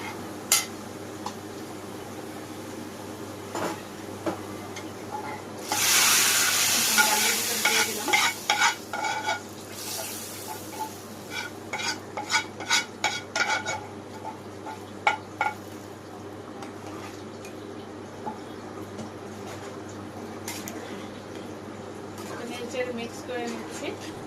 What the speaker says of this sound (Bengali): এখন শুধু এটা পেঁয়াজটা ব্রাউন কালার করে ভেজে নেব